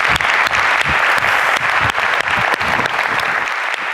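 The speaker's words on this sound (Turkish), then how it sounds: "Alkışlıyoruz" Studio audience at the Turkish TV game show Var Mısın Yok Musun breaks into loud, steady applause that holds dense and even through the whole stretch, with no talking on top.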